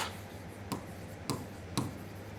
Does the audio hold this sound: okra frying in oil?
no